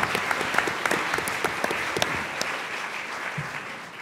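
An audience at the final of an eloquence competition applauds, dense steady clapping close by with a few sharper claps standing out, easing off slightly toward the end.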